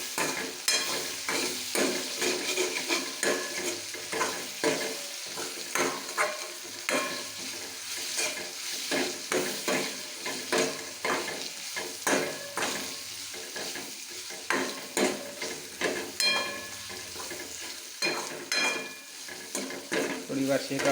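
Turmeric, chili and salt being stirred in a frying pan, with a spoon scraping and tapping in irregular strokes over a soft sizzle, close and moderately quiet.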